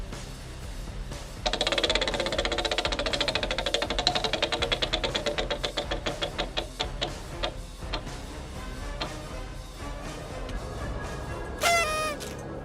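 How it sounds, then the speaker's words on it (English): A game show prize wheel spins to pick a Final Jeopardy category in a Disney-themed Jeopardy game. It gives a rapid run of ticking clicks that slows to spaced ticks and stops, then a short musical chime plays. "Final Jeopardy wheel spin."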